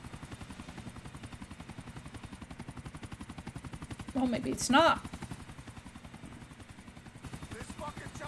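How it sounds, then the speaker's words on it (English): A steady, rapidly pulsing rotor thump from a helicopter in Grand Theft Auto IV runs throughout, briefly overlapped by a short spoken remark and a burst of louder noise. "This fucking chopper better not crash."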